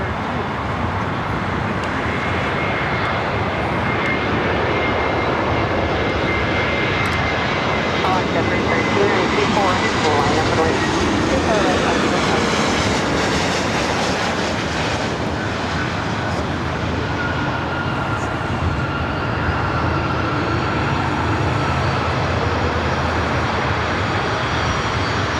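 An Airbus A321neo jet airliner at LAX airport, a loud continuous engine roar and rumble holding steady throughout, with someone talking over it.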